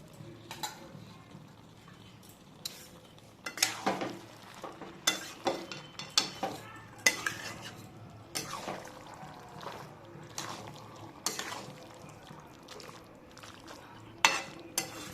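A vegetable curry of mixed Bengali vegetables is stirred in a pan, with repeated sharp scrapes and clinks of a spatula against the metal over a soft background sizzle, in quiet bursts every second or so.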